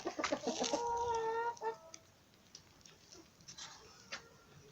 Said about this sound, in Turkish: Bir tane brahma tavuğumuz var.